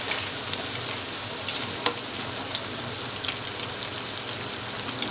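Pre-boiled chicken sizzles and is stirred in a hot pan for Chinese-style rice, a dense continuous crackle up close with occasional sharper pops and no voices.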